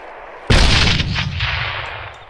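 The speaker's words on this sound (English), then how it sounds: "Do you want to fire the AR in controlled burst?" Automatic rifle fire in ARMA 3 during squad training, aimed at a bunker: a loud, close burst of shots hits suddenly, then a rolling echo slowly fades away, with no voices.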